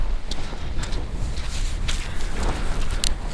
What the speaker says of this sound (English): that wind started just as soon as we come up this little bit